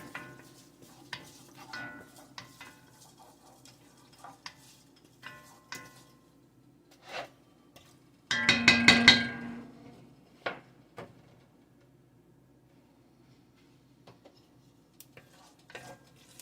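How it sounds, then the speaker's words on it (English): Ingredients are stirred around in heating oil in a pan for a vegan kabocha squash and red lentil curry, with light scrapes and clinks and one louder burst of sizzling stirring midway, otherwise quiet. "we'll just start moving those around in the oil, letting them heat up"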